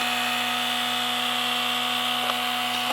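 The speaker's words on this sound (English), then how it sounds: "You can hear all the fans starting up." Steady whirring hum of cooling fans running on a Traxxas X-Maxx RC truck, with a constant drone and a high airy hiss, close by and unbroken.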